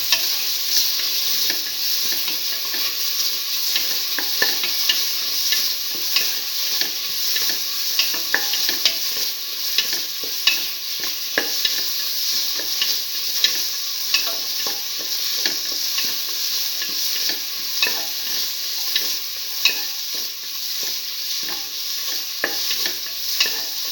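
Tomato pieces sautéing in a hot pan for a black lentil stew, a loud continuous sizzle and crackle with repeated soft stirring scrapes throughout, close and without talk.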